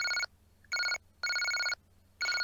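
A telephone bell rings in four loud, regular bursts, each about half a second long with short gaps between, sharp and electronic, close by and with no voices.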